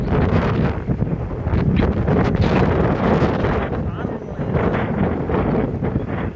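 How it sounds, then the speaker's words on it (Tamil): Strong wind gusts roaring loudly and steadily across an open hillside with wind turbines on a sunny day, buffeting the microphone throughout. "காற்று வேற ஓவரா அடிக்குது"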